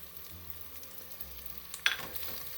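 Ginger, garlic and green chilies fry with golden onions in a pan for Anglo-Indian chicken mince puffs: a soft, steady sizzle with a brief utensil clink partway through, fairly quiet overall.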